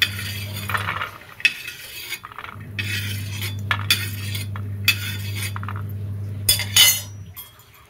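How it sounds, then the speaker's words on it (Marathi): Dry-roasted peanuts scraped from a pan onto a plate, giving intermittent clinks and scrapes of utensil on metal and dish over a steady low hum, with a sharper clatter near the end. "अशा पद्धतीने सगळे शेंगदाणे काढून घेऊ प्लेटमध्ये."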